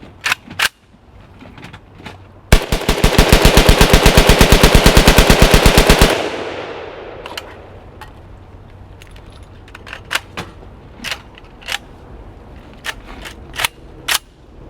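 A handgun fires in a long rapid burst held sideways, loud and close, followed by several separate sharp shots and clicks; the weapon has a suspect locking lug.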